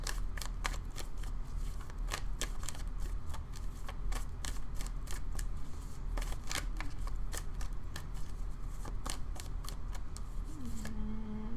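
Tarot cards being shuffled continuously, with dense rapid clicks and riffling snaps close by, steady throughout with no voices.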